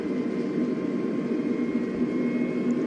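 Airbus A320 jet engines spooling to takeoff thrust on the runway in Microsoft Flight Simulator 2020, a loud, steady broadband roar with a sustained whine, continuous and alone throughout.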